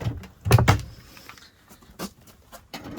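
An RV kitchen drawer in a 2024 Interstate 24GT camper van slides open with a short burst of rattling and clunking, followed by fainter clicks and small knocks close by.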